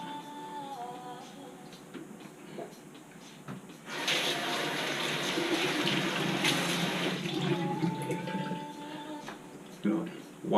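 A sink tap runs for several seconds in the middle while hands are rinsed of peel, a bright splashing gush that starts and stops abruptly, with quieter room sounds and some voice before and after.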